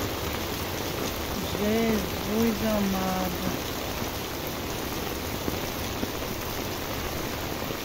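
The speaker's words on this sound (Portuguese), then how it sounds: "Olha que é chuva, que é água." Steady, heavy rain pouring down on a flooded street in Recife, Brazil, with a constant hiss, while a voice briefly speaks over it near the start.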